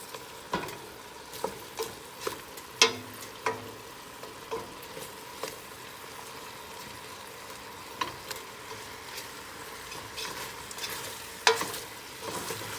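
Oxtails sizzle and fry in a pan over a medium-high burner, a constant crackle broken by repeated scraping stirs of a utensil against the pan every second or two, close and fairly loud with no talking.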